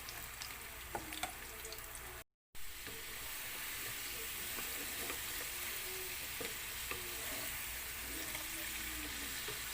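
Sweet potato pieces frying in a pan to be sugar-glazed, giving a steady broadband sizzle with occasional stirring clatters and a brief dropout early on, no voices over it.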